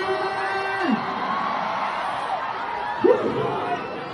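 Concert audience at a tribute to teachers roars with sustained cheering and scattered shouts, a dense wash of crowd noise that swells briefly near the end, with a voice calling out over it.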